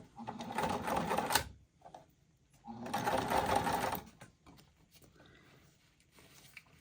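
A sewing machine runs two short, close bursts of back stitching at a 4 stitch length, with a quiet pause between them.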